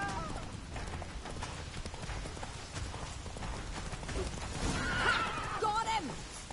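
In a video game, the horse Roach whinnies over steady clip-clopping trotting hooves, with game sounds and voices throughout.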